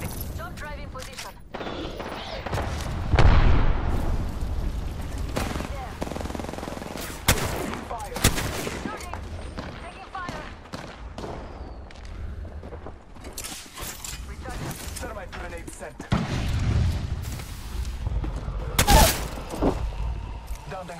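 Shooter video game combat with repeated bursts of gunfire, bursts of automatic fire and single loud shots scattered through the stretch, some close and sharp, others distant, with voices calling out between them.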